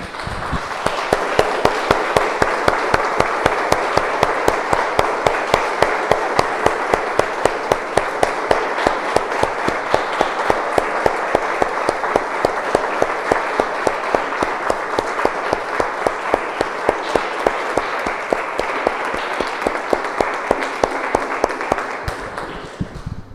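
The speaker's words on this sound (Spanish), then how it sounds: "Damos un aplauso, hermanos." Church congregation applauding in a long, steady burst of many hands, dense and even, holding for over twenty seconds before tapering at the end.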